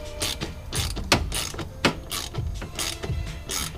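A ratchet wrench tightens a fitting during a car boost and vacuum leak test, giving bursts of rapid mechanical clicking in several short back-and-forth strokes, close and clear with no talking.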